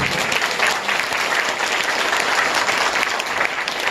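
A church congregation applauds steadily and loudly, dense clapping that holds at an even level throughout.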